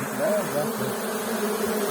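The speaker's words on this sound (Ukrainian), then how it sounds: "Гарний рій, великий рій." A large honeybee swarm buzzes loudly and steadily in the open, a dense continuous drone of many bees with wavering pitch, while people talk nearby.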